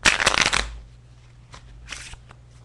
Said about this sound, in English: You can give the pack a full shuffle too.